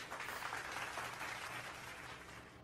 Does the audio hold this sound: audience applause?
yes